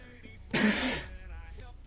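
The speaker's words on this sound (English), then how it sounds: "Sorry for the coughs." A single harsh cough or throat-clearing burst from a sick man, close and loud, rising briefly out of quiet room tone during a gaming session.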